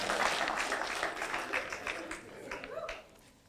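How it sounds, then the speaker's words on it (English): Audience at a narrative medicine story slam breaks into sustained applause, a dense wash of many hands clapping together that holds steady and then thins out toward the end. "So yeah, round of applause for everybody."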